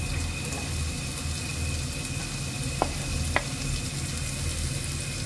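Carrots tossed into a stir-fry for bihon guisado, a steady close sizzle of frying with a couple of brief sharp taps against the pan, and no voices.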